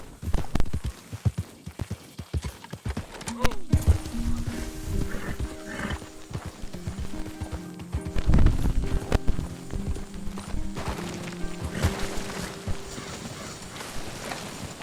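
A horse in the video game Red Dead Redemption 2 neighs and whinnies several times, mixed with clip-clop hooves and rustling nearby. Brief game-character voices occur.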